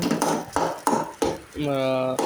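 Spoon or spatula scraping and clattering against a pan while egg rice is stirred, several distinct strokes in a steady rhythm at close range, followed by a brief tonal squeak.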